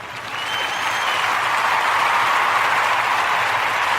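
A crowd breaks into loud, sustained applause that swells in the first half second and holds steady, a dense wash of clapping.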